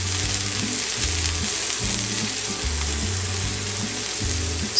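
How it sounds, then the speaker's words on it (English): Sliced tomatoes fry in oil in a pan, giving a dense, even, close sizzle that runs steadily throughout, with a faint low hum underneath and no talking. "We're gonna add in oil in a pan and some sliced up tomatoes"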